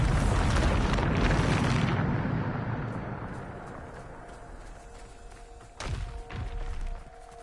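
A heavy magical blast from the Bombarda spell in Hogwarts Legacy booms loudly at first and rolls off into a long fading rumble, followed by a couple of smaller thuds near the end, with no speech.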